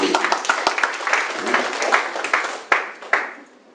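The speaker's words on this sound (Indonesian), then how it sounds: "Tepuk tangan dong kalau kita benar." Audience applause at a charity's vision and mission presentation, a moderately loud run of clapping with a few sharper individual claps near the end as it fades out.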